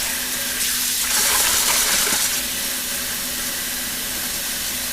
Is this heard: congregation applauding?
no